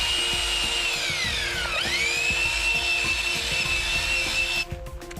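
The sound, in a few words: half-inch drill with cone mixer mixing Redeck texture material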